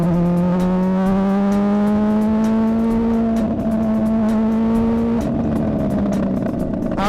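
A DeltaWing race car is driven hard around a circuit, its engine a loud, continuous close-up drone that climbs steadily in pitch through the gears, with faint ticking of track noise and no voices.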